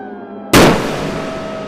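A sudden loud burst of crackling explosion, like small firecrackers going off at once, erupts after a quiet moment and trails into a sustained fizzing, sputtering crackle of small sparks.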